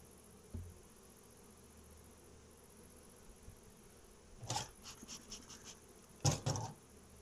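Honey bees around hives prepared for winter, a few individual buzzes passing close to the microphone in short bursts over a quiet outdoor background.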